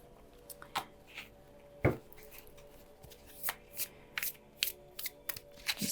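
Tarot cards are shuffled close up in a series of quick riffling bursts and soft taps, irregular and crisp, with no voices.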